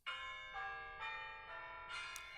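The iPhone classic Bell Tower ringtone plays: a clear, tonal church-bell-like chime struck in four rhythmic strikes about half a second apart, each ringing with bright overtones, alone and fairly soft.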